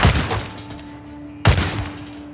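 Two sharp, loud sniper rifle shots crack about a second and a half apart in the Days Gone video game, each with a booming tail that rings out briefly, heard alone without talk.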